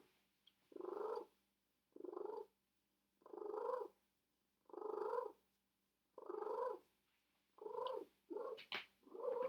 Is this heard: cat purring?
yes